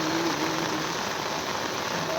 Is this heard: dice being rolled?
no